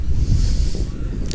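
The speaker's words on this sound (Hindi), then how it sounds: "अच्छी इतनी ठंडी ठंडी हवा चल रही है" Cool outdoor wind gusts in Santiniketan near an art gallery and library, a steady breathy rush with low rumbling buffeting against the microphone, loud and continuous with no talking.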